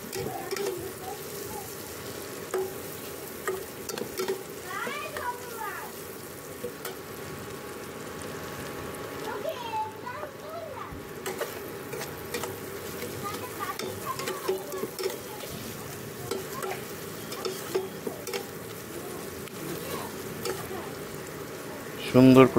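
Sliced onions fry in a pan, browning for eggplant bharta, with a continuous moderate sizzle and intermittent scraping from stirring throughout. A voice talks softly at times over the frying.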